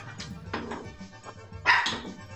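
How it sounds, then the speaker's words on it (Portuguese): A dog barks several times in short, sharp bursts at close range, the last bark loudest, with some background noise between them. "Até o cachorro latiu."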